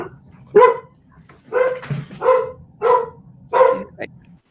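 Household dogs bark repeatedly indoors, five or six sharp barks in an uneven rhythm with a short yip at the end, fairly close over a low steady hum.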